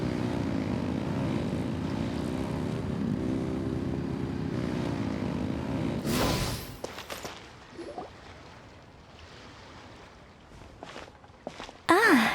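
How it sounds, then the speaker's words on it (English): Aircraft propeller engine droning steadily and loud for about six seconds in the video game Genshin Impact, then cutting off abruptly and leaving quieter scattered footsteps and clatter. "Rev the engines!"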